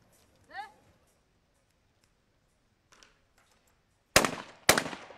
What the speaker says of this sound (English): Very distinctive sound from the shotgun of the Polish athlete.